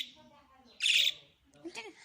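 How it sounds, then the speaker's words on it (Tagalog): Pet lovebirds give close, shrill chirps and a sudden loud squawk in short bursts, with faint voices in the background. "How are you, my Tweety bird"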